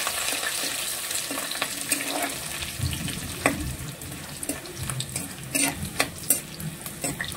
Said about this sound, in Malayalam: പിന്നെ നമ്മൾ വെളുത്തുള്ളി ഇട്ടൊന്ന് സോട്ട് ചെയ്യുകയാണ്.